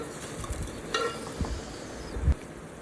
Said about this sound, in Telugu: ఇప్పుడు ఇదంతా కూడా బాగా కలిపేసుకుందాం.